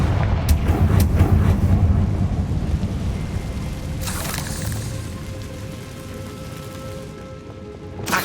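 A Confringo blasting spell goes off in the Hogwarts Legacy video game: a loud, rumbling fiery blast that rolls on like thunder, with a sharp crack partway through, then fades into a lingering roar.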